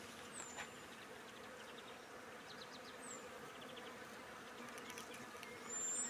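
Bees buzz around a flowering spring tree rich in pollen, making a faint, continuous outdoor hum that swells slightly at the end, with no talking.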